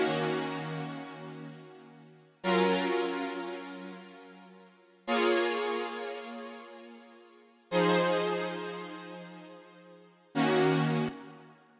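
A bright retro synth preset in Logic Pro plays alone, five sustained chord-like notes struck at steady intervals, each rich in harmonics and decaying slowly before the next attack.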